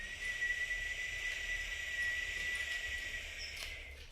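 Steady whistled exhale from pursed lips, one sustained clear tone lasting the whole few seconds, moderately quiet with a faint airy hiss underneath.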